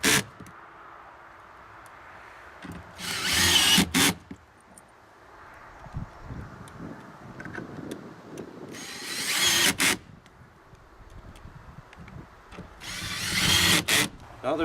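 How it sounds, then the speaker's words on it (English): A cordless power drill on a torque setting drives screws through a seat pedestal into a floor. Three loud, close whirring bursts come a few seconds apart, with quieter handling clicks and knocks in between. "I recommend putting it on a torque setting so you can hear it torque"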